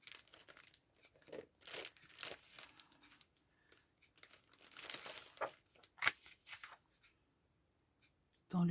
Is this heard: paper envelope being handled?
yes